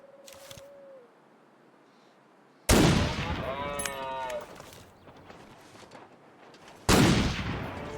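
In The Long Dark, two loud rifle shots are fired at a moose in a snowy wilderness, each a sharp close crack with a decaying echo, spaced about four seconds apart, with a brief voice in between.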